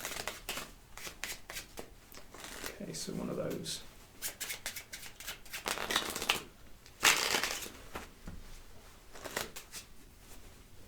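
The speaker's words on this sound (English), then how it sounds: "maybe you can shuffle mine, I'll shuffle yours" Playing cards are shuffled in quick papery bursts and riffles, with people talking over and between the shuffles.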